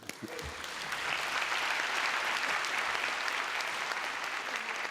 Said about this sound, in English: Give yourself a round of big applause.